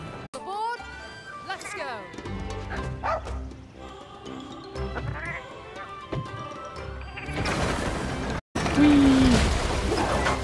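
Companion dog in Monster Hunter Rise barking in short bow-wow bursts, with yips and a whimper among game sounds and music, then a loud crash near the end; a person talks over parts of it.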